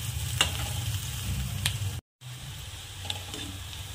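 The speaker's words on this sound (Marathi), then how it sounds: "आता कांद्याला छान ब्राऊन कलर येईपर्यंत आपल्याला परतून घ्यायचं आहे।" Onions frying over a high gas flame until brown, for a spicy soybean curry, make a steady close sizzle with a few soft stirring clicks and a brief dropout midway.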